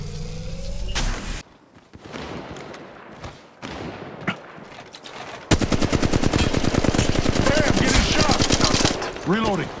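Gunfire in the mobile video game Apex Legends Mobile: scattered shots and impacts early on, then a long dense burst of rapid automatic fire, with game voice lines mixed into the loud action.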